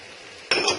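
Spices are stirred into okra frying in a pan: after a moment of quiet, a sudden loud burst of sizzling and scraping as the mixture is turned.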